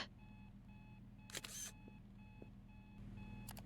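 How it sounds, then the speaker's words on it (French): Studio camera taking an identity photo: a quiet room hum with a soft repeating beep pattern, a sharp shutter click followed by a brief whir, then a faint second click near the end. "pourriez-vous me prendre une photo au format requis?"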